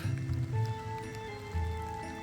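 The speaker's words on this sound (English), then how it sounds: "it's starting to really rain" Rain falling outdoors on a night-time Halloween yard display, a steady, soft wash of drops with low rumbling texture underneath, continuous and moderately close throughout.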